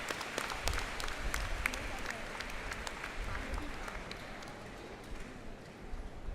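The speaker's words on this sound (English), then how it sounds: "Give them a round of applause." Audience applause at an all-India quiz competition in Vijayawada, a steady wash of many hands clapping close by, continuing without pause for several seconds.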